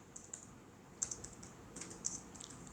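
Code being typed on a computer keyboard: a quiet, close scatter of light key clicks in an irregular rhythm, a few taps landing harder than the rest.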